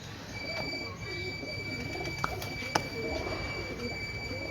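Antique breeder pigeons coo softly in a loft, a low murmuring bubble of calls under steady background hiss, with a couple of sharp clicks and a faint high tone running through.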